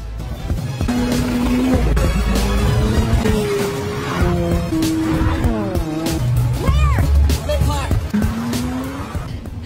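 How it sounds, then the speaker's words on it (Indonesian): A film car chase with a roaring engine and repeated squealing, skidding tires close by. A narrator's voice talks over the chase the whole time. "Rox dan Nick terlibat dalam kejar-kejaran mobil"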